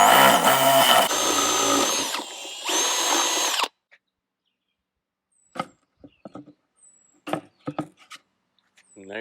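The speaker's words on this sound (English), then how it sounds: "So we're just going to drill a hole there that is just a little bigger than that nut" A power drill whines loudly in a few long bursts drilling holes, then stops, followed by scattered clicks and light knocks of handling in a quiet space.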